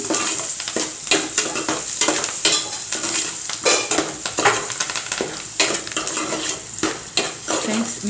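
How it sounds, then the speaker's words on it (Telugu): A ladle stirs okra frying in a pan, scraping and clinking against the metal over a constant sizzle, loud and close, with repeated strokes. "గరిటె తీసుకొని మళ్ళీ ఒకసారి ఇలా కలియబెడుతూ ఉన్నాం"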